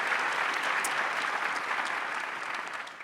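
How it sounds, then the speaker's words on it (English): A commencement audience at the UCLA Fielding School of Public Health gives a steady round of applause, a dense wash of clapping heard at a distance that holds evenly and fades slightly toward the end. "A round of applause for Jody"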